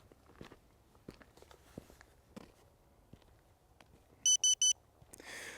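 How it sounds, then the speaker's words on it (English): Three sharp electronic beeps in quick succession, loud and close, from an XAG P100 Pro agricultural spray drone signalling it is out of liquid, amid faint clicks and footsteps before and a rushing noise after. "right now it is out of liquid, that's what the beeping is"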